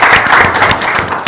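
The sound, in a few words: audience clapping on request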